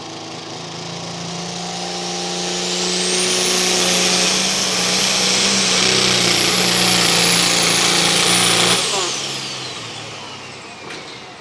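A loud tractor-pulling engine roars up and holds a high, strained pitch for several seconds during a pull, then cuts off abruptly, leaving a fading rumble.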